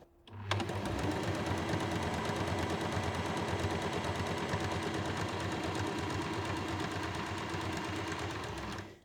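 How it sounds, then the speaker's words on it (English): A sewing machine stitches a quilt block continuously at a fast, even rhythm, close and steady, with no talking. "if you pop it in your sewing machine and line the inside of your foot up to the line"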